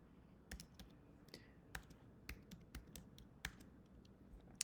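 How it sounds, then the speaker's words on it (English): Code is typed on a computer keyboard into a Sage terminal, a quick irregular run of crisp close key clicks with short pauses between bursts. "I'm going to start typing the code in."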